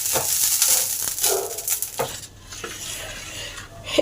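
Oil is brushed onto a pan heated on high for papaya patisapta pitha, giving a close, soft sizzling hiss broken by light brushing and scraping strokes, with no talking.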